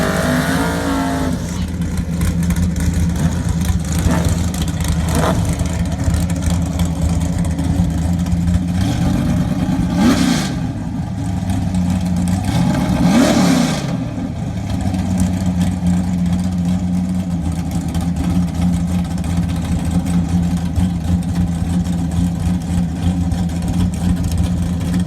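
Vintage 1960s–70s V8 street machines drag racing, with a continuous loud engine roar and two sharp revving surges midway, no voices.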